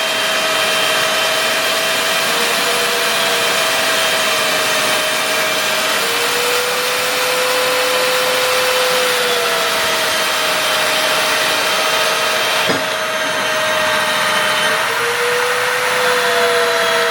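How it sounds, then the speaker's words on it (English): A compact Flex cordless bandsaw cuts through 5/8 rebar with a steady, loud, continuous whine and grinding hum that holds without pause, the pitch shifting slightly as the blade loads. "30 pieces of 5/8 rebar cut with the compact Flex bandsaw."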